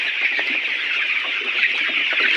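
Layer hens at a poultry farm cluck and chatter in a dense, continuous flock chorus, steady and moderately loud throughout, with no voices.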